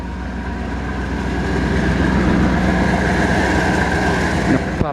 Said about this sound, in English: You can hear the engine sounds nice and healthy, but the exhaust is rusted out.